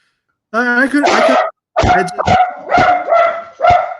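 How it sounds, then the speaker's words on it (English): A dog barks at someone at the back door, giving a whining, yelping vocalization followed by several loud, close barks in an uneven series. "Yeah, the dog's back. So he heard somebody at the back door."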